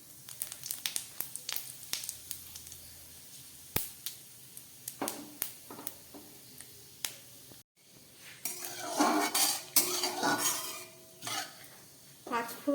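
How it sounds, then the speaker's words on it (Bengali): Panch phoron spices frying in mustard oil in a kadai, with scattered metallic clinks and scrapes of a spoon against the pan, then a denser burst of sizzling and stirring midway, all close and without speech. "পাঁচফোড়নটা খুব ভালো ভাজা হয়ে গেছে।"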